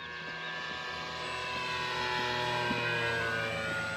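Radio-controlled FW190 model plane flying overhead, a sustained buzzing propeller whine with a steady pitch that swells slightly louder as it passes, heard alone at moderate distance with a few faint clicks.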